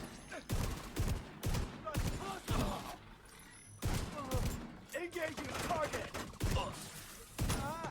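Shotgun firing in The Division 2, repeated loud booming blasts in irregular bursts, with someone talking between and over the shots.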